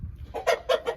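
Chickens clucking close by in a chicken coop, three or four quick throaty clucks in a short burst over a low background hum.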